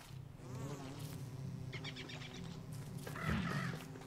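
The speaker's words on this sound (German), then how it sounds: "das sind schon wieder Bienenstöcke" Bees hum steadily around beehives in the game Don't Starve, a low continuous buzz with faint crackly game sounds on top, quiet and without speech.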